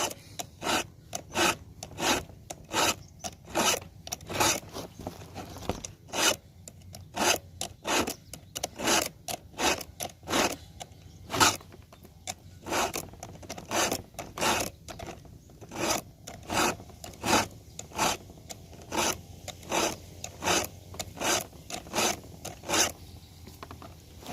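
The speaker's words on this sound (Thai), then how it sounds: "แต่งฟันเลื่อย แต่งฟันเลื่อย" Saw teeth being sharpened with a file, a steady series of rasping strokes in an even back-and-forth rhythm, close and clear, with no talk.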